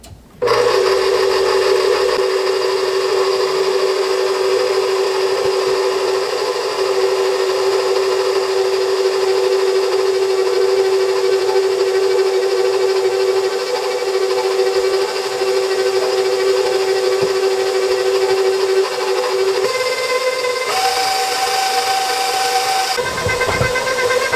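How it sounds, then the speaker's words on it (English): A stand mixer runs on low speed, mixing flour and salt for homemade pop-tart dough, giving a loud, steady motor whine that holds unbroken for about twenty seconds before shifting pitch near the end. "We're going to turn our mixer on low."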